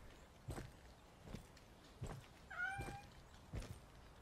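A cat meows in the horror video game Sinking, a short rising-falling meow heard at moderate level between several soft, evenly spaced footsteps, with no talking.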